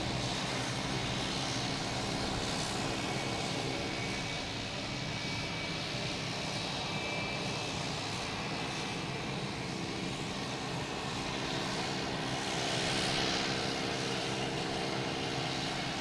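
A jet airliner's engines roar continuously at Logan Airport, a loud, steady broadband rush as the plane warms up or idles on the ground, with no speech.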